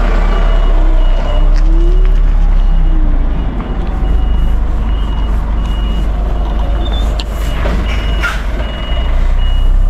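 A truck reversing on a street sounds a steady, repeating back-up beeper over loud traffic rumble and wind noise, with faint passing vehicle sounds throughout.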